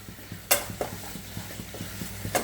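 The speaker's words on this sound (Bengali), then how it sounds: "এবার টক দইয়ের সাথে পুরো মশলাটাকে ভালো করে কষাবো" Spice masala with sour yogurt sizzles in a pan on low flame while being stirred, a soft constant fry under rhythmic spoon scrapes and two sharper clanks against the metal.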